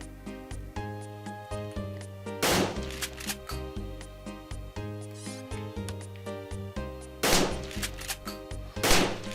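Shotgun fire in a Resident Evil game, loud booming shots at irregular intervals over a rhythmic game music bed, with a cluster of heavier blasts near the end.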